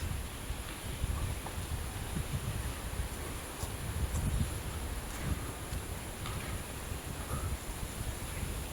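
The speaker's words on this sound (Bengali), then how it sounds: "আসেন, বাতাসে কিরম শব্দ।" Steady wind blows through a park, a broad continuous rush with faint rustling and buffeting against the microphone and no voices.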